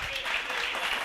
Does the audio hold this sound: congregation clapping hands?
yes